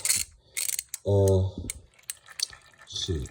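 A ratchet clicks rapidly in one brief burst while backing out the oil strainer bolt on a 2023 Suzuki RM-Z450 dirt bike, with scattered handling clatter around it.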